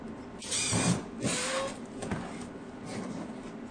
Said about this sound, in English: So we're taking a screw gun, screwing the screws in that comes with the unit.